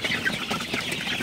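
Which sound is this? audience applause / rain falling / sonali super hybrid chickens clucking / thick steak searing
sonali super hybrid chickens clucking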